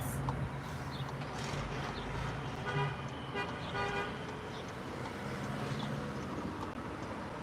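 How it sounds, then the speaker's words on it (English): Busy street traffic on Colesville Road (US 29), with a sustained car horn toot among the steady rumble of passing vehicles, heard from nearby and fairly quiet overall. "I saw the traffic out here is nuts."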